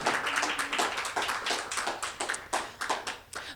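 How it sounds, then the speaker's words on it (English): Steady applause from an audience at a women in law enforcement event, many hands clapping together at moderate loudness without a break, with no talking over it. "let's give them a round of applause for being here."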